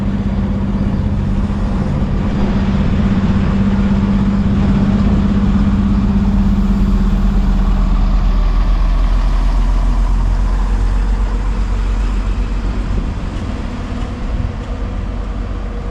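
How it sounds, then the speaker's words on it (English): A train pulls out of Sechshelden station on the Heller Valley Railway in Germany, heading toward Dillenburg. Its engine rumbles steadily and close by, with a sustained low hum that carries on throughout and no talking. "we can take a look at the departure of my train here at Sechshelden"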